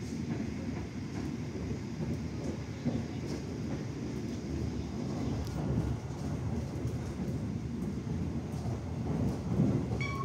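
Gaya Baru Malam Selatan passenger train running on an Indonesian railway line, a steady loud rumble of wheels and carriage noise heard from inside, continuous throughout without breaks.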